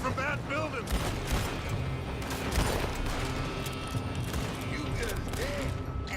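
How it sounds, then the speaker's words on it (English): Gunfire rings out from a building in the Western game Red Dead Redemption 2, a loud, continuous clatter of shots and rattling mechanisms with people talking throughout. "They're shooting from that building."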